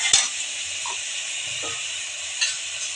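A large tomato drops into hot oil with turmeric and spices in a pan, setting off a continuous bright sizzle with a few short clinks and stirring scrapes, close and clear with no talk.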